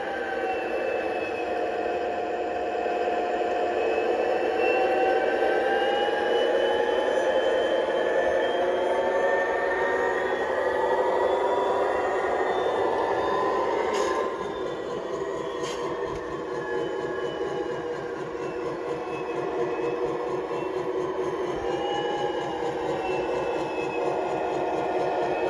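A switcher locomotive engine drones steadily throughout, a continuous low rumble with sustained humming tones, fairly close and unchanging, with no voices.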